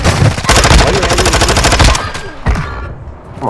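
Rapid automatic gunfire in the battle-royale shooter Warzone 2.0, a loud, close burst of fast repeating shots that ends around the two-second mark, followed by a couple of separate impacts and a fading tail.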